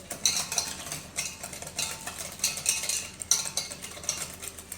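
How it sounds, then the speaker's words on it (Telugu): Curd being beaten into buttermilk with a wooden churner: quiet, rhythmic swishing and sloshing strokes, close up and steady, with no voices. "మజ్జిగ చేసుకునే కవ్వంతో కానీ మనం బాగా బీట్ చేసుకోవాలి"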